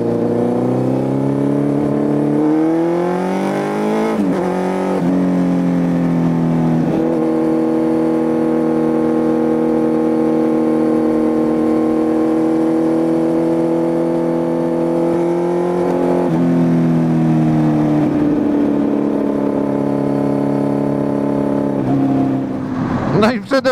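Motorcycle engine droning steadily while riding, running on 98-octane fuel; a close, continuous hum with rising and falling pitch as the rider shifts and changes speed, with wind rush underneath and a voice speaking over it.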